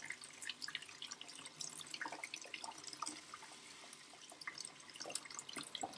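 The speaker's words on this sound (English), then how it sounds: "The water's coming out." Water runs from the shower outlet of a BougeRV portable propane water heater, a faint, steady splashing and dripping stream heard alone.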